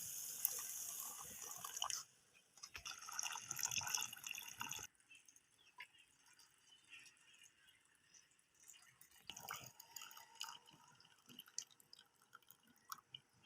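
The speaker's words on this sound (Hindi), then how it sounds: "तो अब ये जो पुदीने वाला पानी हमने बना के रखा था ये इसमें डालेंगे।" Mint water pours and splashes briskly into sugar syrup for a few seconds, then gives way to quieter dripping and small clinks.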